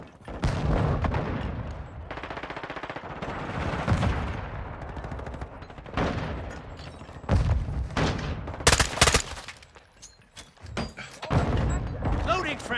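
Gunfire in Call of Duty: Modern Warfare II at Al Bagra Fortress, loud close bursts of automatic rifle fire and heavy shots repeating in clusters with brief pauses, mixed with thuds and shouted callouts from voices.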